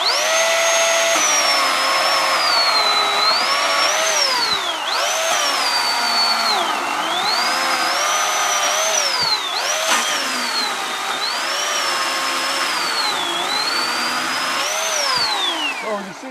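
A 40-volt electric chainsaw cuts through hard apple wood, its high whine rising and dipping repeatedly as the chain bogs under load and then frees up, loud and close throughout with no talking.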